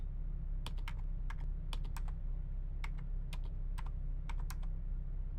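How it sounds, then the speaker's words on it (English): Keyboard typing in the video game Sever is Down, a lone terminal in a big room: irregular bursts of crisp, close key clicks over a steady low hum, no voices. "I love the keyboard noises, the beeps, the monitor"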